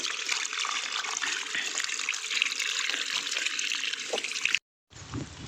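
Water running steadily from a pipe for hand washing in a village, a continuous close splashing stream that cuts out abruptly near the end.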